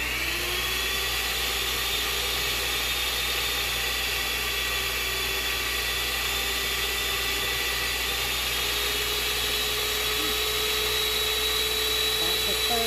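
A $40 Amazon hand mixer runs steadily on its second setting while whipping body butter, producing a continuous high-pitched motor whine with a slight rise in pitch partway through.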